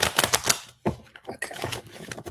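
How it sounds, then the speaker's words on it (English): Rapid crisp riffling clicks of cards being shuffled, close by, in two quick bursts with a short pause between. "I'm just going to do a shuffle"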